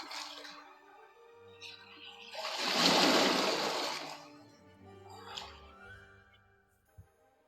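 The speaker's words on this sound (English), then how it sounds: "The only thing left is the crashing of waves as the commanding officer looks on." Ocean waves crash in a single broad surge that swells, peaks and slowly recedes, a loud rushing wash of water with faint splashy trickles before and after.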